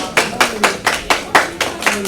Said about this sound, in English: Please join me in giving a huge round of applause to Zena Darboe Jammeh